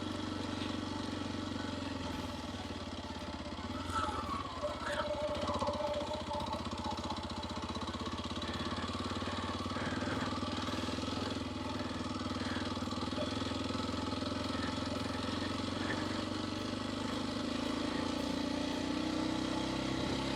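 Kawasaki KLX230 dirt bike with knobby tires riding a rough mountain lake road, a continuous steady engine drone throughout, mid-distance and moderately loud with no pauses.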